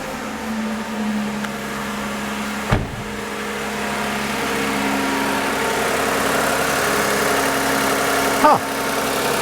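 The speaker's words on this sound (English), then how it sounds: "this sounds like a perfectly healthy 2GR FE engine" A Toyota 2GR-FE V6 engine runs at a steady idle, a continuous low hum with a faint mechanical whine, interrupted by two brief sharp knocks or clunks nearby.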